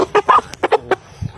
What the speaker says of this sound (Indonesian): ayam KUB betina